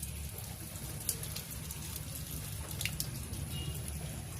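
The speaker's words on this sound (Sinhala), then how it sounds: "හොඳට උතුරලා යනකම්ම වතුර පුරවනවා." Water pours from a garden hose into a barrel that is almost full. It is a continuous low gushing and splashing rumble, steady and close, with faint drips and trickles above it.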